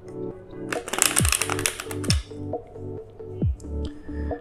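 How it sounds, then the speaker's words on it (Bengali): A deck of playing cards being mixed by hand during a magic demonstration, heard as bursts of quick riffling flutter with soft taps, plus a few low swooping thuds, in a quiet room. "দর্শক দেখুন, আমি কার্ডগুলিকে মিক্স করে নিতেছি।"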